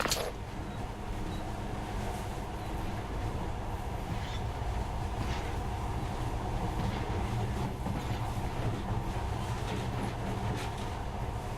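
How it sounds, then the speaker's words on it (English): A monorail ride in the video game Metro Last Light Redux: steady rumbling train noise with faint rail clatter, a continuous even roar that holds at one level throughout. "In the past, trains were ordinary things, but now, this monorail seems magic, doesn't it?"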